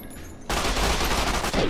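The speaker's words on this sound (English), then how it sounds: "I'll just use this machine gun." Sustained machine gun fire in Fallout: New Vegas bursts in abruptly after a quiet start, a dense continuous rattle of rapid shots, loud and close.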